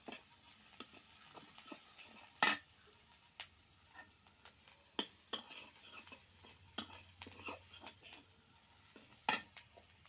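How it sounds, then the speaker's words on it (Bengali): Onion and garlic fry quietly in a pan while a utensil stirs and scrapes, giving scattered sharp clinks and taps over a faint, low sizzle. "তো পেঁয়াজ আর রসুন ভালোভাবে ভেজে নেব।"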